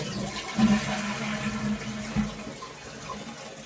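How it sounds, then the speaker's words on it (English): A toilet flushing nearby, with a gurgling rush of water and a low tank hum that trails off as the bowl refills. "It's the toilet."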